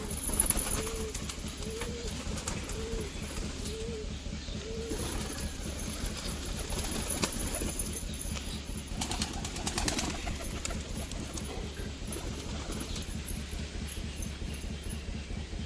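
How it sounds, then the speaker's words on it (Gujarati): Soft, repeated pigeon coos sound in a short series near the start, over steady background noise with a faint voice now and then. "કબૂતર જોઈ લો"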